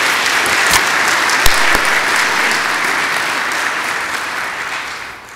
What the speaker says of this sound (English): Let's give them a round of applause because the staff does really good work.